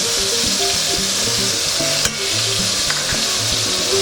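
Butter sizzles loudly and steadily in a hot pan around a seared steak, a constant hiss running the whole way, with background music playing underneath.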